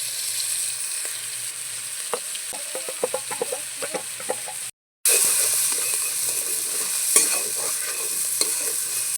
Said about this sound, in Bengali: চিকেনটা আমার লাল লাল করে ভাজা হয়ে গেছে